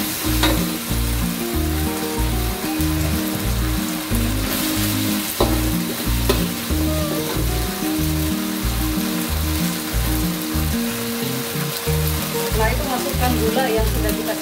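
Pomfret fish being stirred in a sweet and sour pineapple sauce, with a steady loud sizzle and frying crackle and repeated rhythmic scraping strokes throughout.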